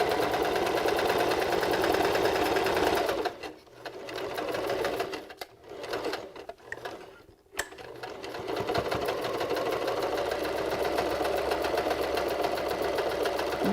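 A sewing machine runs a straight stitch along a 3/8 inch seam on a beanie, a steady fast mechanical whir that briefly slows and pauses midway before resuming at full pace, with no talking.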